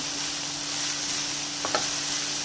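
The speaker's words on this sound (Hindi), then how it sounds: "1 मिनट तक इसको हम भूनेंगे।" Filling for a chicken Chinese roll fries in a pan, a dense continuous sizzle heard close, with a couple of brief spoon scrapes partway through and no talking.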